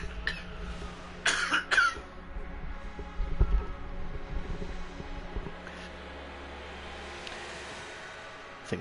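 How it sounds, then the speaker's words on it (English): A person coughs twice in quick succession, fairly close and loud, followed by faint background noise, with a low hum running underneath throughout. "so I just need to cough."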